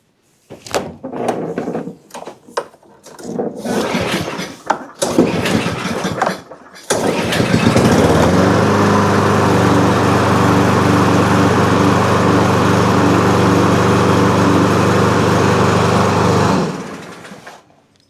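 A Cub Cadet push mower with a valve-train fault that pops and won't stay running: a few rough pull-start bursts, then the small engine catches and runs at a loud, steady drone for about nine seconds before cutting off.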